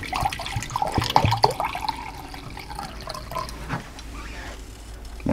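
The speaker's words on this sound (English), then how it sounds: "First we're going to add our liquid, which is 1 cup of vinegar" Vinegar splashes and trickles into an Instant Pot pressure cooker, a close, uneven pour with light knocks at the start, briefly under a voice.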